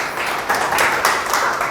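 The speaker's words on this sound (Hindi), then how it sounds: "तो मैं चाहूंगा ऐसे प्रोडक्ट के लिए बहुत जोरदार ताली होनी चाहिए दोस्त।" An audience at a home meeting breaks into applause: a short, dense patter of many hands clapping together, fairly loud and continuous.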